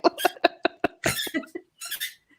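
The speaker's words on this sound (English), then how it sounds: "my dog just walked in with her squeak ball" A dog's squeak ball toy squeezed repeatedly, giving a quick run of sharp, close squeaks in uneven rhythm, then a short pause and a final pair, heard alone without talk.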